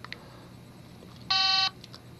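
A Motorola phone powers back on with a brief, bright electronic tone burst lasting under half a second, set against faint background hiss and a couple of quieter soft beeps nearby.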